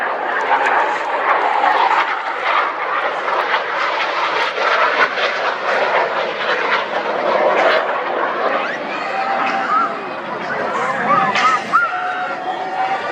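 An aircraft at the Wings Over Waukegan airshow approaches to land, its engine a steady broadband drone heard throughout, partly masked by a public-address announcer talking over it, with a few higher whines near the end.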